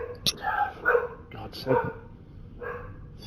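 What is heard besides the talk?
dog barking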